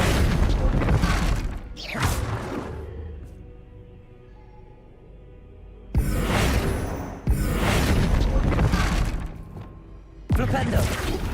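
Bombarda explosion spell cast in Hogwarts Legacy, heard as loud booming, shattering blasts in bursts, with a quieter lull in the middle and further impacts, mixed with game sound.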